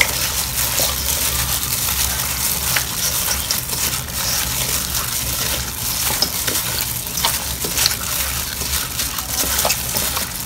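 Chunks of tuna being stirred in a pan with a spoonful of caramel sauce, giving a continuous wet sizzling and scraping churn at moderate level with no talking.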